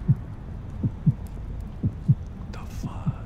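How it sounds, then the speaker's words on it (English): A steady heartbeat pulses in a horror video game, soft low thumps in a slow repeating double rhythm over a quiet ambient hum, with a brief rustle near the end. "I'm hearing a heartbeat."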